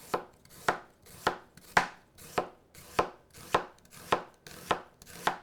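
A knife chops straight down through an onion on a flat cutting surface, ten crisp even strokes in a steady rhythm, close and clear with nothing else heard.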